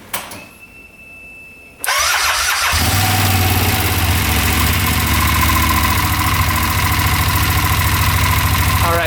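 A UTV engine cranks and fires after a quiet lead-in, then settles into a loud, steady idle running for several seconds.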